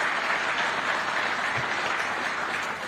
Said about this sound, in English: May we clap for our IT sector.